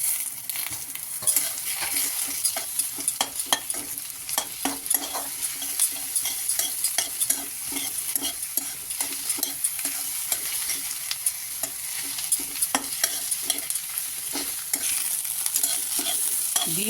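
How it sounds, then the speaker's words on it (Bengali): Egg, onion and tomato stir-fry in a pan, with continuous sizzling and frequent rapid spatula scrapes and clacks keeping an irregular beat throughout, close and fairly loud. "ডিম পেঁয়াজ ভাজা হয়ে গেছে ঝুরঝুরির মতো"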